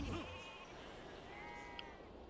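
Sheep bleating in the Civilization 5 strategy game: a short, wavering bleat near the start, with fainter bleats later, over a steady wash of game ambience.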